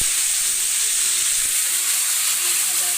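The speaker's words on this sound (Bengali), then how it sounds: "তেলে জিরে দিয়েছি, দিয়ে সজনের ডাঁটা" Moringa drumsticks fry in hot oil with cumin seeds, giving a constant, close, airy sizzle with little variation.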